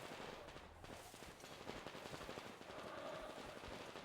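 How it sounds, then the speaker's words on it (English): Gunfire in the video game Metro Exodus: a steady, dense crackle of rapid shots runs through the whole stretch at moderate loudness, like distant automatic fire with no pauses. "Oh, they're opening fire."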